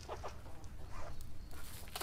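Chickens clucking at feeding time in the morning, a few short scattered calls over steady low background noise, moderately close with no talk.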